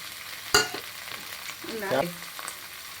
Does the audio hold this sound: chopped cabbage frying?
yes